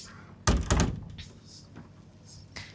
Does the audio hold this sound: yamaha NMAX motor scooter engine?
no